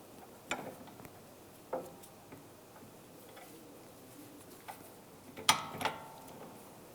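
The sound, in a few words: 15mm ratchet wrench tightening a sway bar link nut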